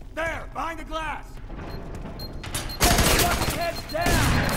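Covering gunfire in the shooter game F.E.A.R. 3, loud rapid bursts of automatic fire and chatter, with game voices shouting commands partly over the shooting.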